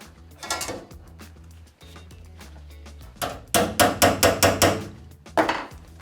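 The corner of a kitchen sink being tapped down with a screwdriver: a close series of sharp metallic knocks, a few scattered early and then a quick run of about six taps, with no talking.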